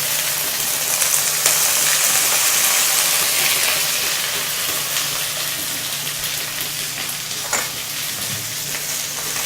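Sliced okra frying in hot oil in a pan, a dense, continuous sizzle with light stirring scrapes, steady and close throughout with no talking.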